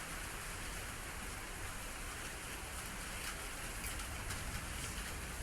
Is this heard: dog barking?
no